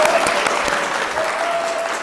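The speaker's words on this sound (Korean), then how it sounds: "수고해주신 우리 디자이너님께 다시 한 번 더 큰 박수 부탁드리겠습니다" A conference audience at a Seoul fashion talk applauds in a dense, steady wave of clapping that fills the whole moment.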